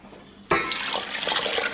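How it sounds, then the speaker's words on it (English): Water poured all at once into a bowl of poolish for Neapolitan pizza dough, a sudden splashing rush after a quiet start that keeps running steadily to the end. "So we're gonna pour this right in there."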